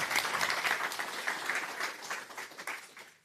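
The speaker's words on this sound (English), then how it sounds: "giving them a nice and warm supporting applause as they go along" An audience at the Northern Lights Summit 2023 claps warmly and steadily, a moderately faint wash of many hands that holds throughout and begins thinning near the end.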